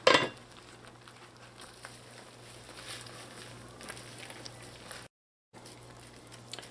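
Callaloo with crab is stirred in a cooking pot: one sharp clink of a utensil against the pot, then quiet scraping and low simmering background noise, faint and close, with a short silent gap near the end.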